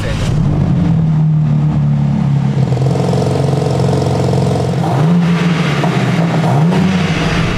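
A BMW M3 engine runs close by with a deep, throbbing note, rising and falling as it revs under load and eases off again in several waves.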